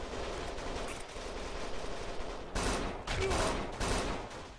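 Police gunfire in the video game Kane & Lynch 2: Dog Days, scattered shots and short bursts crackling over a constant game background, growing louder and denser toward the end.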